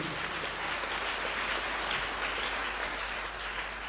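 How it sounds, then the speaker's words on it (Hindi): Congregation at a worship service clapping together, a steady wash of applause heard from a distance throughout. "ताली बजाएंगे प्रभु के इस महान दिव्य दर्शन के लिए"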